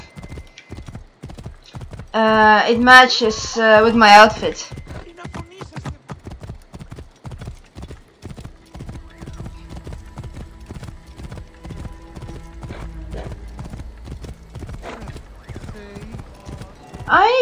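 In Assassin's Creed Origins, a horse's hooves clip-clop steadily in a rhythmic gallop while a loud whinny rises early on; someone talks over parts of it.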